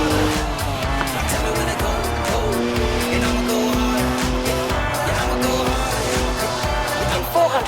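Twin-turbo 3-litre straight-six in Forza Horizon, 335 horsepower, roaring steadily and loudly as tires squeal through sideways slides, a constant high engine tone with no speech.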